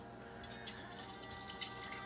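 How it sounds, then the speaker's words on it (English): Water and vinegar pour into a kettle in a steady, quiet trickle with faint splashing and dripping, alone and close by. "You put water and vinegar into the kettle."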